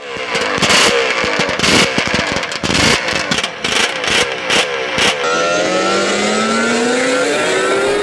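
A Suzuki RG 250cc two-stroke motorcycle engine revs hard in sharp, repeated bursts up close, then settles into a rising, sustained high-pitched drone as it accelerates away along a dike road.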